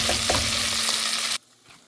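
Ground masala paste from a mixer hitting hot oil in a pan for rajma, a loud dense close sizzle lasting just over a second before cutting to a faint quiet tail.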